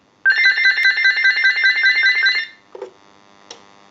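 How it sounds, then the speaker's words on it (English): A General Electric 27909 cordless telephone under repair rings with a loud, warbling electronic trill for about two seconds, then stops, followed by a couple of soft handling clicks. "if we ring it again, it will ring, and we'll go ahead and answer it"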